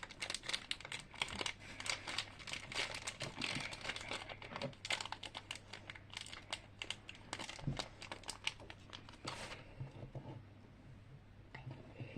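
Plastic crinkles and rustles up close in quick, irregular bursts, with sharp crackles scattered throughout and a quieter stretch near the end.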